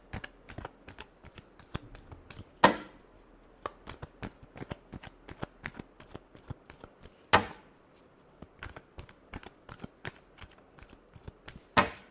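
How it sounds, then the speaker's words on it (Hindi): Tarot cards are shuffled by hand in a long run of quick, crisp riffling flicks, close and steady, broken by a few sharper slaps as the deck is squared; no voices. "last shuffle"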